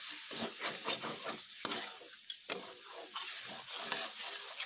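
Giant taro stems stir-fried in a pan sizzle steadily while a utensil scrapes and stirs in repeated uneven strokes, close and moderately loud.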